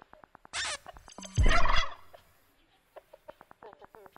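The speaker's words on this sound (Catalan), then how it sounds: "Estem en el subsistema del gall Cinto" A rooster call from the electromechanical subsystem of Marcel·lí Antúnez Roca's 2006 performance Protomembrana: two loud, close, gobbling fowl bursts, followed by a string of soft mechanical clicks.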